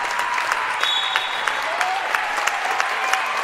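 A home crowd at a basketball game claps and cheers on its feet, a steady wash of applause with scattered louder claps, heard from within the arena.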